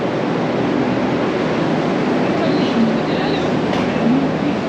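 A metro train rumbles steadily along in India, with a dense low roar and a faint squeal rising now and then. Quiet voices sit under the noise.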